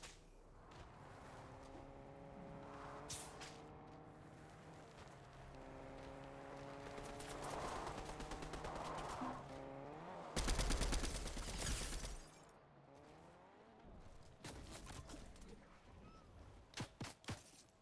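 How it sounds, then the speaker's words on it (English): Video game gunfire aimed at a house rattles off in bursts of sharp cracks, with a loud dense volley near the middle and scattered shots after, while a person talks over much of it. "Somebody's shooting at that house."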